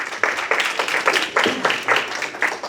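An audience at a Singapore venture day panel claps steadily for about three seconds, a dense patter of many hands in a hall, with no talking over it.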